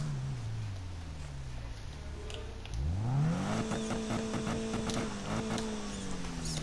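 A synthetic car engine from the racing video game Need for Speed (2015) revs up and holds a steady drone, with pitch sweeping upward partway through, fairly quiet with faint background sounds.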